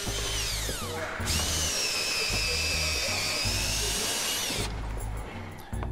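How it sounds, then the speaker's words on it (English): Power drill boring holes for iron nails through overlapping clinker boards of a Viking dragon ship, a loud steady high whine running continuously with brief spin-ups and pauses, close by. "drills holes for the iron nails"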